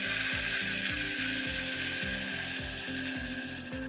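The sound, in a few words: ground masala paste sautéing with onions in a pan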